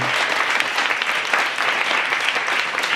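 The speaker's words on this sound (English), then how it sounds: "And give it a round of applause for everyone who's spoken here tonight." Dense, steady applause from an audience at an evening storytelling event, continuous clapping filling the whole moment without talk.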